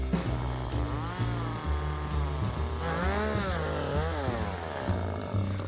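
A chainsaw carves wood in short bursts, its engine revving up and down with rising and falling pitch sweeps, close and loud throughout with no talking.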